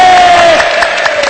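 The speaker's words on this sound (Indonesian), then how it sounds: "Kasih tepuk tangan dong, kasih suara." A loud burst of clapping and cheering rises from a seminar audience at a marketing motivational show. It is brief and crowded, with a high whistle-like tone carrying over the noise.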